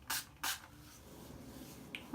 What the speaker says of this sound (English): Grab a little protective spray.